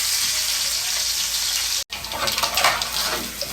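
Small onions frying in hot oil with cumin and fenugreek seeds, a loud continuous sizzle broken by a brief pause, then stirring and crackling.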